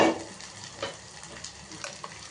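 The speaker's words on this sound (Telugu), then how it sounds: "ఈ అల్లం వెల్లుల్లి పేస్ట్ వేగిన తర్వాత దీంట్లోని ఇది ఉంది కదా రుబ్బుకున్నది, ఇది కూడా వేసేసుకుందాం." Ginger garlic paste and ground masala fry in a pan for bajji masala pulusu, giving a soft, steady sizzle with occasional stirring scrapes, fairly quiet and close, with no talking.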